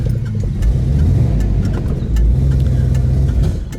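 A 1969 Dodge Charger Daytona with a 426 Hemi engine idles near operating temperature, a loud close rumble with a steady uneven low throb and faint ticking, running alone without talk.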